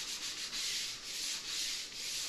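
Sandpaper rubs back and forth over plaster compound on an outside wall corner built without corner bead, a close, rhythmic scratchy swish in repeated even strokes, with no talking.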